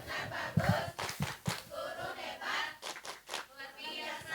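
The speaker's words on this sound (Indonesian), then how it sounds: "Kasih tepuk MBG." Rhythmic group clapping from an audience of teachers and school heads at a training session, in quick patterned bursts with voices chanting along.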